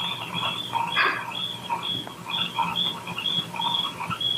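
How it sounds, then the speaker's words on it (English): Frogs croaking outdoors near water, a chorus of repeated high chirping calls pulsing in a steady rhythm at moderate distance. "You hear those frogs?"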